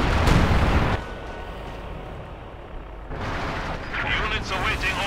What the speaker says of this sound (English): this is not the most impressive use of artillery I've ever seen so far in the game.